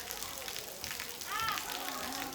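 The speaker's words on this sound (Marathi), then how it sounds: "जोरातच आला पाऊस." Heavy monsoon rain pours down outdoors during an Independence Day flag celebration, a dense, steady hiss of rain on surfaces, fairly quiet, with children's voices and chatter mixed in.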